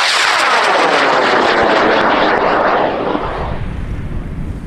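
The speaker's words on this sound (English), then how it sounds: "Beautiful lift on that one, nice flame, lots of smoke." A high power rocket launches at Airfest 29 in Argonia, Kansas, with a loud, close, roaring blast. The roar holds steady for about three seconds, then thins and fades as the rocket climbs away.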